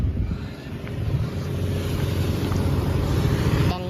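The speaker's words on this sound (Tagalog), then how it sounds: "Dami hong bangka oh." Steady low engine drone of boats on the water at Dinahican, continuous and fairly loud with a faint wash of wind, no talking.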